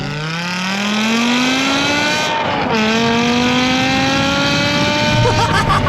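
A BMW E60 M5 four-door saloon screams at high revs, loud and close, with the engine note climbing steadily, dipping briefly at a gear change, then rising again.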